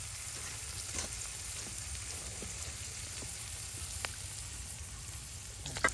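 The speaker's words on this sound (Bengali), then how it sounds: "এই যে পেঁয়াজটা আপনার মরিচটা একদম ভাজা ভাজা করে নেওয়া হচ্ছে" Chopped chili and onion fry in hot oil with a bay leaf for a bottle-gourd dish, giving a steady, close, hissing sizzle with a few faint clicks of stirring and no voices.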